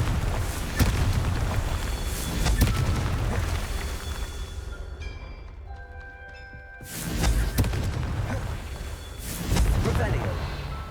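Confringo fire spell blasts in Hogwarts Legacy, heavy booming impacts with rumbling low end, a quieter ringing lull in the middle, then further loud bursts, with a voice casting spells over the action.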